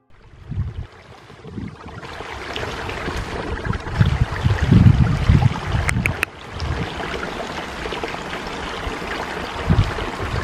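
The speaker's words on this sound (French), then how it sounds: "Un petit ruisseau plutôt." Water trickling and babbling steadily in a small stream, fairly close, with occasional low rumbles and bumps over the continuous flow.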